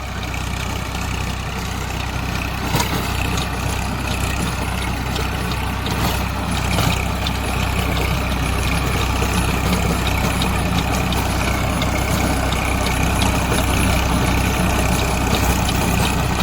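A Massey Ferguson MF 241 tractor engine idles steadily nearby, a continuous low diesel rumble with an even tone and no voices, holding constant for the whole stretch.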